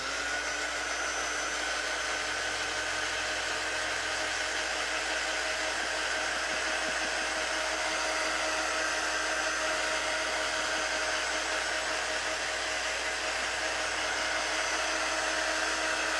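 A hair dryer blows continuously and close, drying chalk paste on a craft project, a loud steady whoosh and whine that never changes from start to end.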